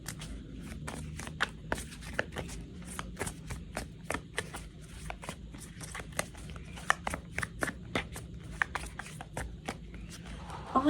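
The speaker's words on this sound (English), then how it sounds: "I take my full time to shuffle my deck" A deck of tarot cards is shuffled steadily for the whole stretch, with dense, rapid riffling clicks and soft slaps repeating close to the mic over a low room hum.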